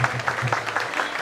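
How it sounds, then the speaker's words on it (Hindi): A crowd claps in a dense, steady burst of applause at a religious ceremony in Indore, carrying on for the whole moment without pause. "तालियां बजा दीजिए एक बार।"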